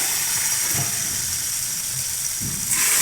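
Onions browning in a pan for aloo pulao give a steady, soft hiss and gentle sizzle that stays level throughout, fairly close and unbroken by talk.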